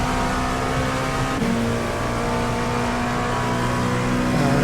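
An LMP2 race car engine at full throttle on a rainy Hockenheim track in a video game, giving a steady, loud, high-pitched roar with a constant whine and no letup.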